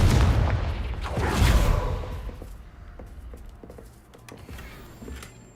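Booming fire-blast spell explosions from the Confringo curse in Hogwarts Legacy, a heavy rumbling burst early on that fades into scattered crackles and thuds, with no talk.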